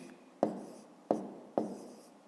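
Pen or pencil writing by hand on paper while working a fifth-grade math exercise, three short scratchy strokes each starting with a sharp tap and fading, close and quiet with no talk.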